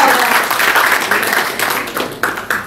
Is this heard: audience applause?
yes